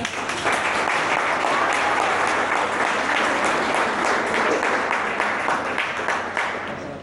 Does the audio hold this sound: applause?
yes